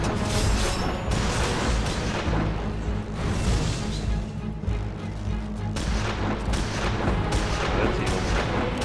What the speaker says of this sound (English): That sounds like a shotgun.